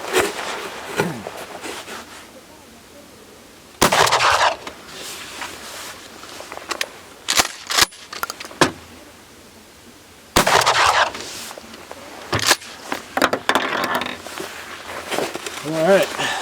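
Two loud, sharp blasts from a Mossberg shotgun with an 18-inch cylinder bore barrel ring out about seven seconds apart, each followed by a brief decay, with scattered clicks and handling clatter between them.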